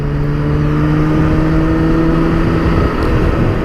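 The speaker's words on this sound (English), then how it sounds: "And the engine has a beautiful note." A 2017 BMW K1600GT motorcycle engine hums with a steady whine, strong and continuous close by with no talk over it.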